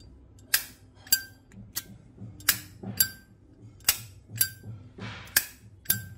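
Black glossy ebony Zippo lighter, its metal lid clicking open and shut and its flint wheel striking, repeated sharp metallic clinks about every half second, close and fairly quiet.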